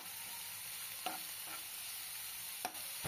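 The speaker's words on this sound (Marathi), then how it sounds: "कांदा छान असा बऱ्यापैकी ब्राऊन होईपर्यंत परतून घ्यायचा आहे।" Chopped onion sautéing in a pan for a tender jackfruit vegetable dish, a steady, close broadband sizzle punctuated by a few brief scraping stirs of a spatula.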